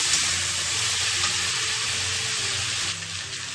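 A paste of mustard, poppy seed and green chili fries in hot oil with a loud, continuous sizzle that stays close and steady, easing slightly near the end.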